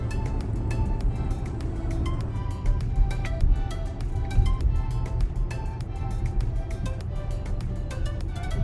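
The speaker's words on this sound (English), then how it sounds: "Just driving along the road, enjoying the lush green vegetation." A car cruising along a road through lush green countryside in Jamaica on a Saturday morning, a steady close engine and road rumble with regular clicking ticks throughout, no talking.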